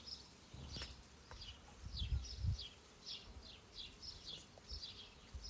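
Faint birds chirp in repeated short calls outside a house, heard from a parked car, with a low rumble and quiet ambient noise beneath them.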